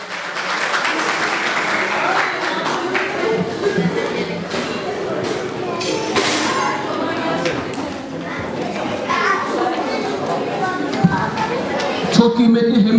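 Strong applause greets Turgay Aşık as he is invited onstage at an 8 March International Women's Day and martyrs' remembrance program, dense and steady throughout with crowd noise and children's voices mixed in.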